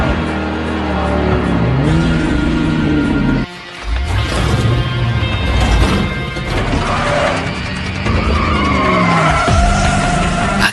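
Race cars in a film race roar and accelerate with loud engine howls, screeching tire skids and sharp impacts, a dense, close mix of motorsport action that continues throughout.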